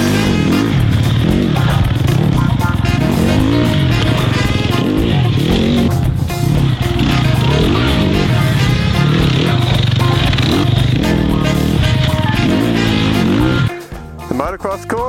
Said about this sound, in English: I'll just give you a quick glimpse of what you can get up to on a dirt bike.